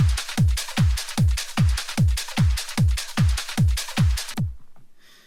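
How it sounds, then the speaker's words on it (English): Back percussion loops play with a punchy kick drum thumping in a fast, regular pulse, each hit followed by a bright rattling wash, loud and upfront before cutting off and leaving a faint tail. "So those parts, the back percussion with the kick drum, sounds like this."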